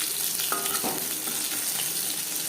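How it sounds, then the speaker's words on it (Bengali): Marinated fish frying in hot oil over a medium flame, a steady broadband sizzle that stays loud and close throughout, with a brief tonal clink from the pan near the start and no talking. "মাছ ভাজবো মিডিয়াম ফ্লেমে।"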